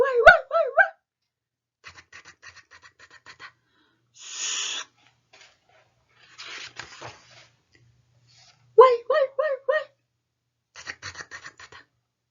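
A dog gives a few short yelping barks, with scattered faint scratchy rustles and a brief whoosh between quiet gaps.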